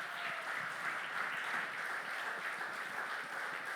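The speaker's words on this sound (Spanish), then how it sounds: "Demos un aplauso al Señor." A church congregation applauds during a Spanish-language sermon, a soft, steady wash of many hands heard from a distance that holds evenly throughout without a clear end.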